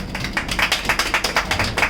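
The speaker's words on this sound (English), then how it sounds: "Liberal applause, please" A small group claps at a Toastmasters club meeting, steady brisk rhythmic applause, close and moderately loud, with no voices over it.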